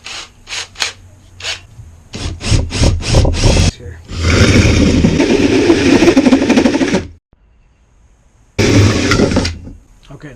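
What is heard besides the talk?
drill boring a hole through a bowl sink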